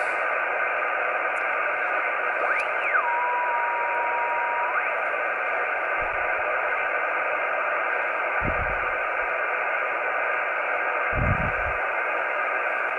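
Steady, loud hiss of static from an Alinco DX-70T all-mode ham radio tuned to a dead band, continuous throughout with a brief whistling tone sweep and a few low thumps.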